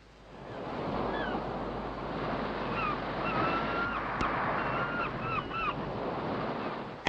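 Ocean waves and surf on the Cornish coast, a steady, close roar of breaking water with wind buffeting, while faint seabird calls drift in over the top.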